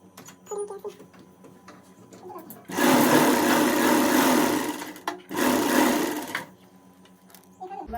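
A domestic sewing machine stitching fabric in a village home in Himachal, running in two loud whirring bursts separated by a brief pause, with quieter handling noises before and after.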